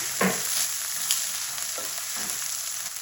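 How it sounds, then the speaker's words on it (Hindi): Mustard greens (saag) with green onion hitting hot oil and being stirred in a pan, a loud continuous close sizzle broken by a few scraping stirs, with no voice. "अब इसके अंदर मैं डालूंगी साग।"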